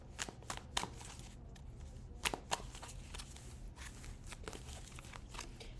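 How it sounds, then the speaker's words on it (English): A deck of cards is shuffled quietly up close, with short riffling bursts and soft snaps in an irregular rhythm. "I'm going to shuffle and cut in half and then pull 3 cards."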